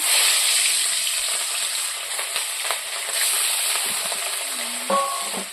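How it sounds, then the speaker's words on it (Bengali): Rohu fish pieces sizzling in hot oil, a steady broadband hiss from the pan with a few small pops and clatters near the end, no talking. "মাছগুলোকে আমি ভেজে নেব।"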